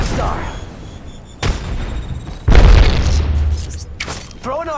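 A frag grenade goes off in a shooter video game with a loud deep boom amid scattered sharp gunfire cracks and whooshes, while a voice calls out over the action.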